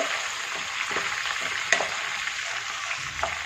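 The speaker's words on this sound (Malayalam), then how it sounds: "അതിനുശേഷം ഇതിനൊന്ന് വഴറ്റിയെടുക്കാം" Garlic, curry leaves and green chillies sautéing in a pan, a dense continuous sizzle heard up close with faint scraping stirs and one brief clink, no voices.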